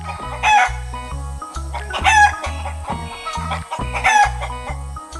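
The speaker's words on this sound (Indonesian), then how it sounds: "Ayam kecil sedang berlarian di tengah tumpukan rumput kuning, di tengah kebun yang hijau dan penuh semangat." Cartoon farm chickens cluck and crow in a busy, repeating pattern over a bouncy rhythmic music bed, loud and close.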